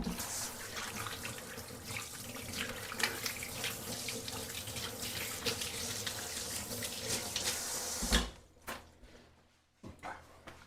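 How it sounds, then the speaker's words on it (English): A kitchen tap runs steadily while hands are washed under it, a close, continuous splashing rush that cuts off sharply near the end, leaving a few faint drips and handling sounds. "so wash the hands"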